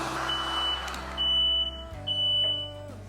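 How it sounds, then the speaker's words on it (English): Shrill smoke alarm beeps in three high-pitched bursts, steady and piercing, set off by a heat gun warming a walnut vase, over a low humming background with some faint clatter. "Apparently, smoke alarm didn't like it, even though I don't feel any smoke."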